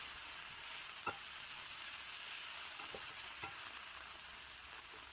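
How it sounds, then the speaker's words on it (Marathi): Onions frying in hot oil for an egg curry give a steady, fairly faint sizzle, with a few soft stirring clicks now and then. No voices are heard. "आता कांदा नाही याच्यामध्ये फ्राय करून घेऊ आपण।"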